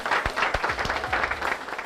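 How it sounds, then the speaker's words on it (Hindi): An audience applauding at a Modicare success-story event, dense steady clapping from many hands at close range, with a few louder individual claps standing out near the start. "जोरदार तालियां।"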